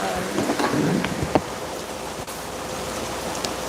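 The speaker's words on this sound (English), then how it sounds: "it is raining." Steady rain pouring down, a dense hiss of drops with a faint low rumble underneath, continuous throughout.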